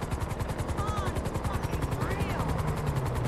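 A helicopter in a video game roleplay thumps steadily with a loud, rhythmic rotor beat throughout, while distant bangs sound from below and faint voices drift in the background.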